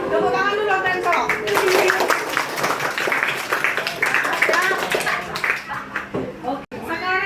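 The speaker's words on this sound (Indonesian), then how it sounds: "Tepuk tangan dulu untuk yang cowok." A school class claps for the winning boys' team in a classroom quiz, a burst of fairly close clapping mixed with children's voices and chatter throughout.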